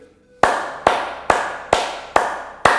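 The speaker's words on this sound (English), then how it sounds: "let's clap for ourselves 5 times" A group claps hands in unison six sharp times at a steady, even rhythm, each clap loud and close with a short decaying tail, during a relaxation and wellness exercise session.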